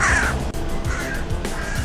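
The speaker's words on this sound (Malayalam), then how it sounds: "ഇവിടുത്തെ കാക്കയൊക്കെ വെറും ബ്ലാക്ക് അല്ല രണ്ട് കളറാണ് കാക്കയ്ക്ക് വെള്ളയും ബ്ലാക്കും കൂടി കൂടിയിട്ടാണ്" A black-and-white crow caws loudly and close by in a Budapest street, a few harsh, rasping calls in quick succession with no voices over them.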